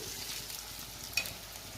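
Chicken pakoras deep frying in hot oil in batches, a steady close sizzle and crackle throughout with one brief sharper pop near the end, no voices.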